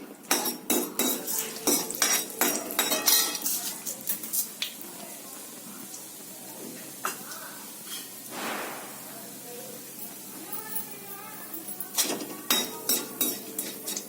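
Mustard seeds, fenugreek and urad dal tempering in a pan, with a spoon clattering and scraping against metal in quick bursts, a soft sizzle running underneath and brief quiet stretches in between.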